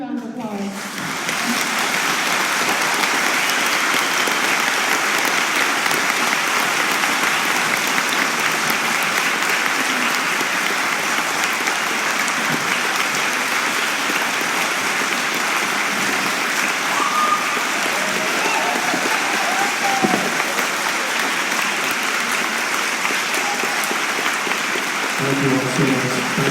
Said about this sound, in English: can everyone please give a huge round of applause